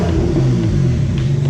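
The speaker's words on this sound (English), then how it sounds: "it's revving up really smoothly now" A car's front engine, freshly tuned for smooth throttle response, revs up close and loud in a brief, steady rising rumble.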